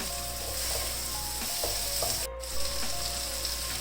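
About two whole dried red chillies drop into hot oil while okra fries for masala bhindi, and a steady close sizzle crackles with faint stirring clicks.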